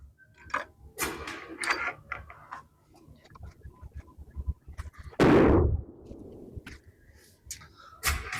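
A single loud, sharp 6.5 Creedmoor rifle shot fired during competition load group testing outdoors, standing out from the quieter handling and movement noises around it.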